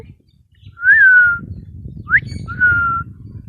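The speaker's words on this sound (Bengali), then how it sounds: "টুকি টুকি টুকি টু শীষ দাও তো" Pet parrot gives three clear whistles, a long sliding note, a short rising chirp and another held note, close and loud against a quiet room with faint low murmuring.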